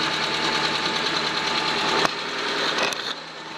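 A Citroën CX engine runs steadily in a garage, giving a dense continuous drone with a rhythmic knock from a worn steering ball joint, then a sharp clunk and the running sound thinning out near the end.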